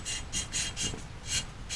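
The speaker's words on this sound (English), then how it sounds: "I'm lapping the valve in there" Engine valve being lapped into its seat with a twirling tool, giving a series of short gritty rasping strokes in an uneven rhythm, close and fairly quiet.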